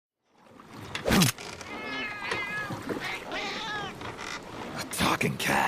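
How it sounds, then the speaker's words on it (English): A cat meows several times in Metal Gear Solid Peace Walker, the short cries rising and falling near a pier, mixed in with game sound effects and a voice. "It's a cat."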